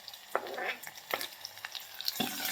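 Chopped tomatoes frying with browned onions in a pan, giving a soft sizzle broken by a few brisk stirring scrapes and clicks, close and fairly quiet, with no talk.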